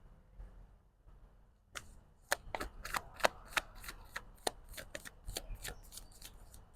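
Tarot cards shuffled close by, a run of crisp, sharp riffling snaps and flicks starting after a quiet moment and continuing in an uneven rhythm to the end.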